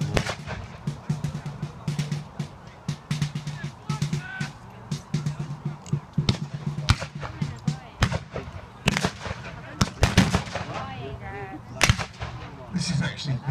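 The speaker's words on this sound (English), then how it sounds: "This is actually the worst case scenario, where a fort is actually being fired upon by two sides." American Civil War reenactment battle at a fort, with dense, loud, irregular musket gunfire and heavier artillery booms crackling continuously, nearby, amid a busy outdoor crowd.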